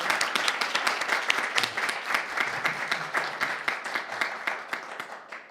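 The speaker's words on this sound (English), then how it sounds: "let's give Stephanie a big round of applause" An audience at a board of education meeting applauds a student who won the 2024 Lifting Up Westchester essay contest: steady, dense clapping from a modest crowd, moderately loud and sustained for several seconds with no talking over it.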